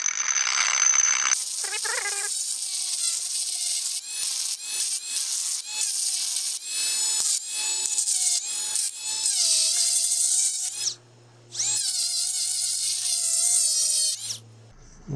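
Smoothing a drilled spot on an aluminium-style slider part for a Sur Ron Light Bee supermoto, a high whining power tool grinding in bursts with brief pauses, close and loud, ending in a short low hum.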